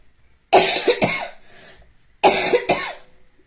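Two bursts of harsh coughing, each a quick cluster of two or three coughs, close and loud with a short quiet gap between.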